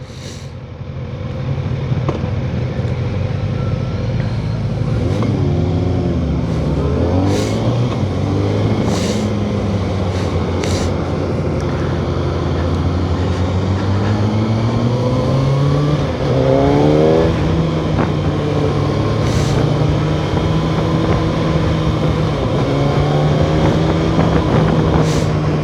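A 2021 Kawasaki Ninja 6R motorcycle being ridden at a demo day, its engine droning loud and steady throughout, with rising and falling revs as the rider shifts through gears and no talking.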